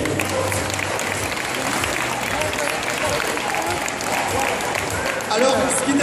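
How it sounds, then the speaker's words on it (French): Applause from the audience at the 2014 international dog show in Tarbes, a broad steady clatter of clapping that runs throughout the stretch, with voices audible beneath it. "Applaudissements s'il vous plaît."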